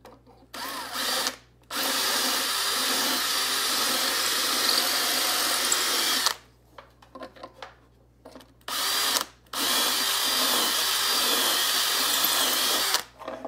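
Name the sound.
drill drilling holes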